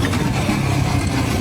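A Ducati motorcycle engine runs steadily at close range, a low continuous rumble with a rough, slightly sputtering texture throughout, no voices over it.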